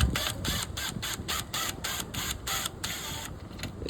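An impact gun tightening a nut on the narrowed rear end of a 1970 Ford F100, giving a steady run of rapid, evenly spaced hammering bursts, loud and close, with no talk.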